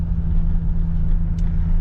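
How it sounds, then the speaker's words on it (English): A truck rolls in at a farm yard, its engine a steady, close low rumble that holds evenly throughout with no talking. "There goes the truck driver."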